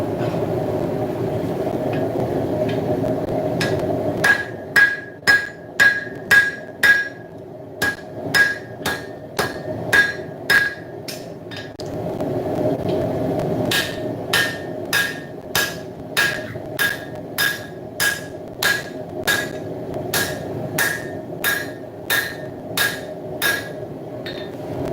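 A hand hammer strikes a pipe drift to drive a mild steel guard onto a forged blade, with sharp metallic blows in quick, regular runs and a pause between two long sequences, close and loud over a low shop hum.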